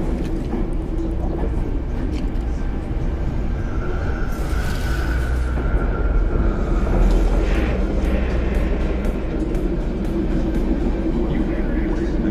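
A metro train on the Night City Green Line in Cyberpunk 2077 rumbles loud and steady throughout, with a low droning hum and a mechanical whine swelling midway, while an announcement voice speaks over it.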